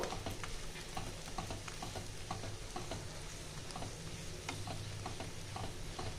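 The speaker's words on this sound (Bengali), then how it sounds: "ওই পাশে বেশি ভাজার দরকার নেই।" An egg paratha roll fries in a pan, a constant close sizzle dotted with small sharp ticks and pops, steady throughout with no talking.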